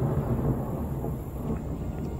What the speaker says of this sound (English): This is perfect storm time.